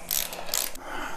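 A ratchet tightens a part during a VW Type 1 flat-four engine build, a short burst of quick metallic clicking from close by, alone without talk.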